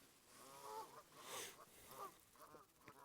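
Several geese honk in flight over a fishing lake, faint and distant, calling in a few short bursts across a few seconds.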